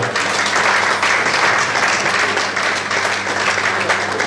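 Wedding guests applaud together in a steady, dense clatter of clapping hands that fills the room and holds evenly throughout without letting up.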